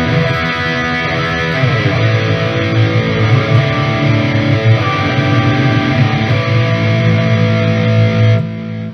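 Distorted electric guitar playing sustained chords and notes through reverb and delay effects in Reaper, loud and continuous for most of the stretch, then cutting off near the end.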